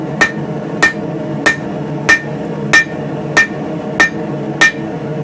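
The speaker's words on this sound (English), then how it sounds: "I'm going to do is forge a taper on both of the prongs, on both sides." A hammer forges a taper onto the prongs of a hand-made crowbar, striking about nine loud, evenly spaced blows in a steady rhythm with no talking.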